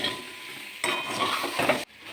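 Sugar being stirred in a cooking pan, a scraping, clinking stir that starts after a quiet moment and runs for about a second, then stops abruptly.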